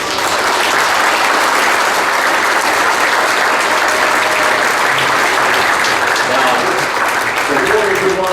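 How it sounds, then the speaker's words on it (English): A crowd at a sports hall of fame luncheon gives a sustained round of applause, dense steady clapping from many people filling the room for several seconds, with faint voices mixed in. "Let's give them all a round of applause."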